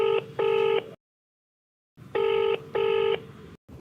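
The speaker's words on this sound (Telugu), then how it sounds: "ఒకసారి కాల్ చేస్తాను." A telephone call rings out on the line with a clear electronic ringback tone: two pairs of beeping bursts separated by about a second of silence, loud and close, with no voices.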